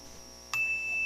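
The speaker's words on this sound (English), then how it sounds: "Hit the bell again." A single bell strike at a civic voting-values event rings out once, a bright sudden ding that lingers as a steady ringing tone for the rest of the moment over a quiet room.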